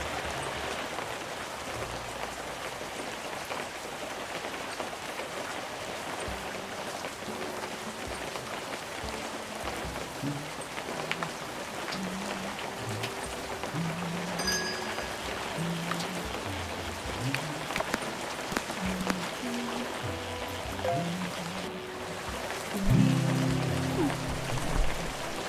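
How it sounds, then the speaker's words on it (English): Steady rain in the fishing video game Webfishing, a continuous soft patter over a waterfall's rush, with a voice talking quietly underneath. "This rain's probably almost over by now."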